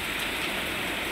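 Heavy rain pours steadily in Singapore on a morning outdoors near a garden fish pond, a dense, continuous hiss of drops on surfaces with no break and no voices.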